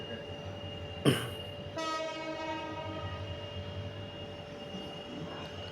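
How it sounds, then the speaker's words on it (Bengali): A metre-gauge train passing the Moghbazar rail gate in Dhaka, sounding a loud horn blast with a sharp onset, then a sustained rumble of carriages rolling by nearby amid city street noise. "অলরেডি ট্রেন আসছে দেখতে পাচ্ছেন"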